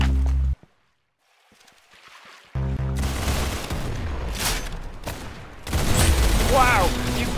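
Gunfire in the video game Arsenal arrives in sharp bursts and rapid volleys after a brief near-silent gap, mixed with other busy in-game effects.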